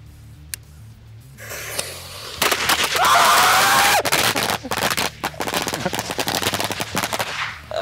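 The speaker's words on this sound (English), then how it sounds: "That was a whole strip of firecrackers." A whole strip of firecrackers goes off in a dense, crackling string of sharp pops lasting several seconds, loud and close, trailing into scattered bangs, with a few isolated pops before it.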